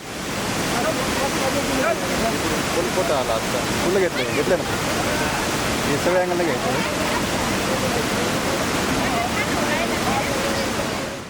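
A dense, steady roar of rushing water from a monsoon waterfall near Bhandardara dam, loud and constant, with faint voices of tourists blended into the noise.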